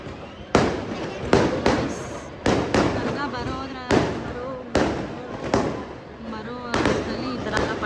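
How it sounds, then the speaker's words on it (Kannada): Firecrackers burst in sharp, loud cracks at the Yelahanka Karaga temple festival, about a dozen irregular blasts over a crowd's murmur, with people talking in between. "ಈ ಥರ ಎಲ್ಲ ಪಟಾಕಿ ಎಲ್ಲ ಹೊಡಿತಾರೆ."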